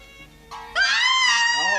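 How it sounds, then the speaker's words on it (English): A woman screams during a 1970s horror film scene, a high, sustained cry that rises sharply and holds loud and near, with a softer voice just before it. "Scream was in the last scene."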